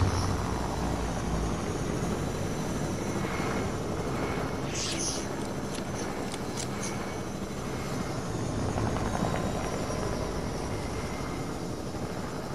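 A video game helicopter drones steadily with a continuous rotor and engine wash, loud and close throughout, while people talk over it.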